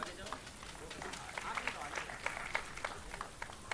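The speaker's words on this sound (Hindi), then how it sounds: "नमामि मिश्रा के लिए ताली बजाइए।" An audience at a school Swachhata Pakhwada 2022 street play claps for a performer, giving a steady, dense patter of many hands that sounds soft and somewhat distant, with voices mixed in.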